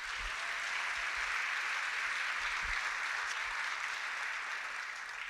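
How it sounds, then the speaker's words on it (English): Steady applause at a school awards assembly, a dense wash of many hands clapping evenly throughout at moderate volume, with no voices over it. "Let's give them a round of applause."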